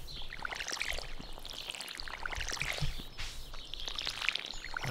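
Watering in the farming video game Scumside Farm, a steady hissing pour like a stream of urine, continuous and fairly close, with faint chirps behind it.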